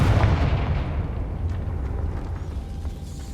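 A Confringo spell blast in the video game Hogwarts Legacy goes off as a single loud, booming explosion that rumbles and fades over a few seconds.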